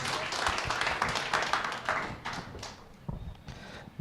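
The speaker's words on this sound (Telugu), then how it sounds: "జోసఫ్ అని will have a clap and will invite him" A congregation at a watch night church service breaks into applause, a dense burst of many hands clapping that thins out and fades over a few seconds.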